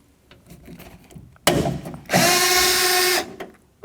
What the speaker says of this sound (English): We're going to undo the regulator mount bolts.